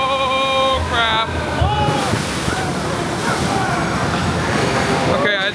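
Water splashing and rushing from a log-flume style ride drop at Disneyland Paris, loud and continuous, with excited voices and shrieks over the top.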